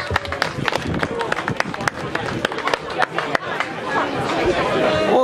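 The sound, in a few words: applause for Olga at a goulash festival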